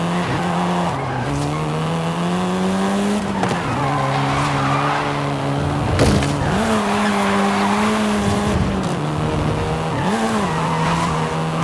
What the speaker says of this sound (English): This version is the Volkswagen Golf R